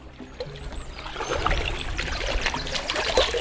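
Water poured over a freshly found Louis XVI coin to rinse it, outdoors during metal detecting: a short, steady splashing trickle that grows slightly louder, with faint background noise.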